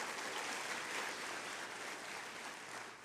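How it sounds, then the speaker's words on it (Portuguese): Church congregation gives a dense, sustained round of applause, many hands clapping at once in a continuous wash that sounds somewhat distant and fairly soft. "dá uma forte salva de palmas para Jesus"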